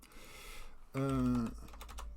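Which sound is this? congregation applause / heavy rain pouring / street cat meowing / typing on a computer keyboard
typing on a computer keyboard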